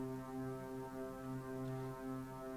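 A Reaktor Weirdo granular synth plays a sample as a quiet, sustained tonal drone with layered harmonics and a gentle, slowly pulsing swell.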